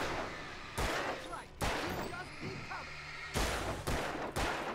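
Heavy gunfire in the Alan Wake video game, with loud broadband blasts in quick clusters and sustained crackling rattle between them during a close-range fight.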